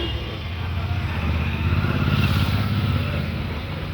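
A motorcycle engine runs close by and pulls away, a steady low rumble that swells slightly in the middle and then eases back.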